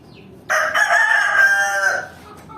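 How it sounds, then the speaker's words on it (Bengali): A desi rooster crows once, close and loud, a single drawn-out cock-a-doodle-doo lasting about a second and a half over a quiet farmyard background. "এগুলো হচ্ছে সব দেশি মুরগি"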